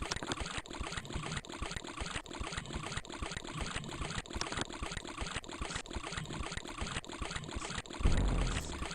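Steady rushing, trickling water from the video game Chip's Challenge, a continuous flowing wash with a brief louder surge near the end, no voices.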